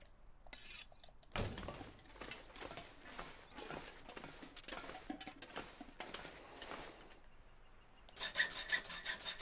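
Hacksaw strokes in The Long Dark, a repeated rasping back-and-forth scrape on metal, fairly quiet and rhythmic, with a brief gap and a brighter burst at the end.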